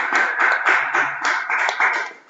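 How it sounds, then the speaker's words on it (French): Crowd cheering and applause sound effect, a dense burst of clapping and bright cheers in several swelling waves that tapers off at the end. "La foule est en liesse."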